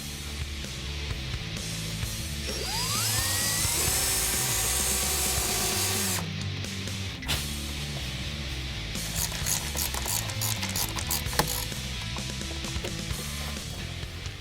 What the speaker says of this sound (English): We'll drill a pilot hole, then install one of the screws.